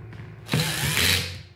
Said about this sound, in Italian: se state utilizzando un trapano con una frizione all'incirca media